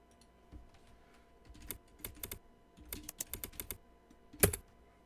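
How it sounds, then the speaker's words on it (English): Fingers tapping on a computer keyboard, irregular clusters of sharp clicks in quick bursts, close and clear against a quiet background, ending with one louder slap of keys. "I didn't realize y'all can hear the tapping of my keyboard"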